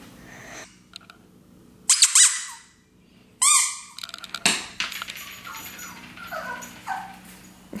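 A puppy plays nearby, letting out squeaky high yelps and whimpers in short bursts, with scuffling and thumps between them.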